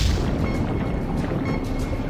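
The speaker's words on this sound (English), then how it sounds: "Torpedoes away, sir." Submarine torpedo launch in an action film: a loud, dense rush of pressurised water and low rumble, steady and unbroken for a couple of seconds with no voices over it.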